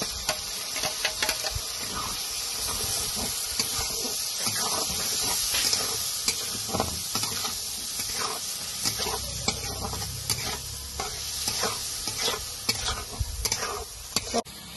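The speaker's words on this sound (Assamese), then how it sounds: "ধনিয়াৰ পেষ্টটো দি আৰু অকমান সময় ভাজিম" Coriander paste frying in hot oil for a fish curry gives a continuous close sizzle and hiss, broken up by scraping and stirring sounds throughout.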